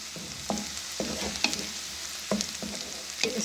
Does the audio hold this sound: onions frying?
yes